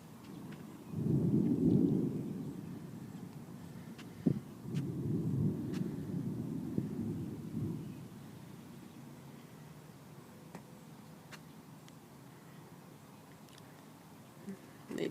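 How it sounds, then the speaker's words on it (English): Low rumbling thunder from a thunderstorm microburst rolls in two broad swells with a sharp crack between them, moderately distant outdoors, then fades to quiet wind. "Maybe that was a lightning strike."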